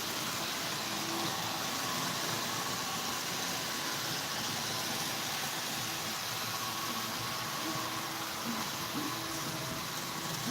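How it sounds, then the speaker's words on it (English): A steady, low mechanical hum and rumble of small trains running continuously on a track, even and unbroken with no voices. "I just got the trains going around the track."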